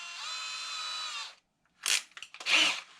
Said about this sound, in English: I'll take my 1/8 inch drill bit here